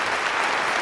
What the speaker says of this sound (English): give a fucking round of applause for that one